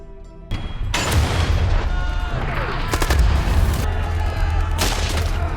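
Heavy artillery booms and bursts of gunfire crack out repeatedly in a war film, with rumbling blasts echoing between shots, loud and close.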